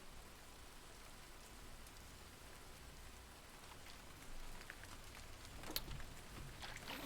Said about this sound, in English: Oh, I love this rain.